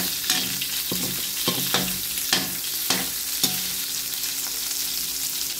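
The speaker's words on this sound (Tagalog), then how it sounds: "magigisa na po tayo ng bawang sibuyas" Garlic and onion sautéing for pinakbet, a steady hiss of frying in the pan broken by a series of sharp scraping stirs at irregular intervals.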